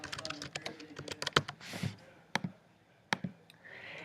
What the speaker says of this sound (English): Now I got to type in the header again.